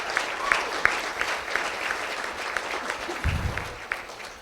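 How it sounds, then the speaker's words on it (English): Wedding reception guests applaud the bride, a steady patter of many hands filling the room for several seconds, with scattered sharper claps and a brief low thump near the end. "Why don't we get a round of applause for the bride tonight?"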